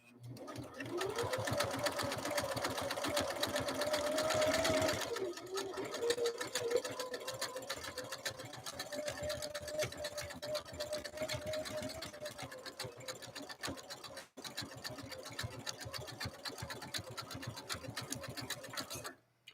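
A Husqvarna Viking sewing machine stitches with a fast, steady mechanical whir that pauses briefly and then resumes, while a person talks over it.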